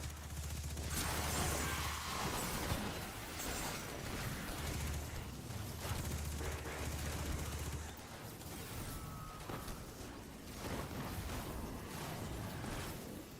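Submachine gun fire in Destiny 2 chatters through a busy game mix in short rapid bursts, with repeated sustained volleys and other effects layered underneath.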